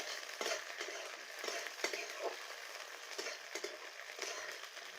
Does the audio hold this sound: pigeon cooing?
no